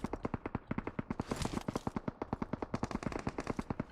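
Rapid bursts of automatic gunfire crack from behind in a PUBG Mobile match, dozens of close, sharp shots in quick rhythmic volleys with a brief denser flurry midway.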